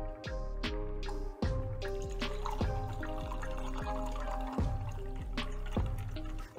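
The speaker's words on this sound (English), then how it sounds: "And then pour." Liquid is poured into a glass while mixing a spooky Halloween cocktail, a steady splashing pour mixed with rhythmic clinking and ringing tones, close and moderately quiet with no talking.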